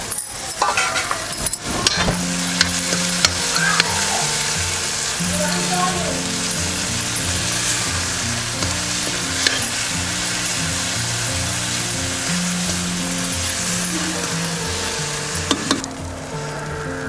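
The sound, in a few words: tomatoes frying and being stirred in a pan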